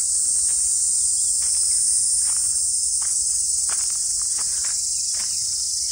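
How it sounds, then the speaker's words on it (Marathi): Steady, dense insect chorus, likely crickets, fills a hillside forest in the morning, a continuous high shimmer throughout, with faint patters of footsteps in the background. "शांत शांतता आणि किड्यांचा आवाज येतोय"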